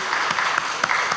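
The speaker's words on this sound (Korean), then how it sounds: "하나님께 영광과 박수를 드립니다" A church congregation at a Korean Sunday worship service claps together in a short, lively burst of applause, many hands sounding close and fairly loud.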